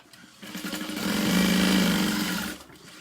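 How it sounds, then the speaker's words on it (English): A sewing machine runs steadily for about two seconds, stitching along the bottom of an all-vinyl tote bag in a U shape. The motor hum is close and continuous, rising and then easing off. "we're only gonna sew in a U shape along the bottom"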